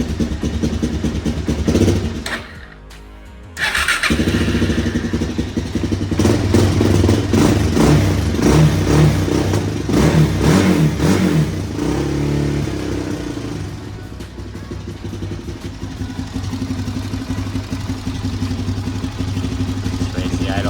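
A Suzuki LTZ 400 quad bike engine cranks and catches after a brief pause, then settles into a steady, close idle with a few blips of revving, with some talk over it.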